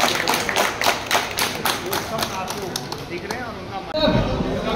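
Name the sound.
loud clapping from everyone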